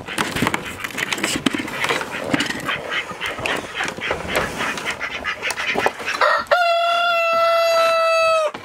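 Chickens cluck and scratch in a busy, noisy yard on a freezing -5°F morning, then a rooster lets out one long, loud crow close by.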